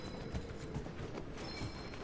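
Horse hooves walking in the video game Dragon Age: Inquisition, a faint, even clip-clop of footfalls under a low background hum, no talk.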